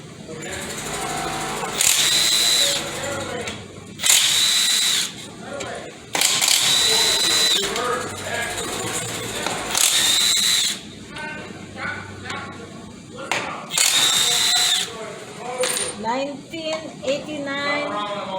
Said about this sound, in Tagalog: now I want to start pick out the bolts